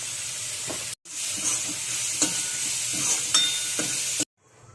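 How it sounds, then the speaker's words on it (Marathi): A garlic clove and green chilli dry-roasting in a hot pan, giving a steady close sizzle and crackle with a few soft scrapes and stirs, cut by a brief pause, with no talking. "एक लसूणची पाकळी टाकली. ह्यांना अशी भाजून घ्यायची."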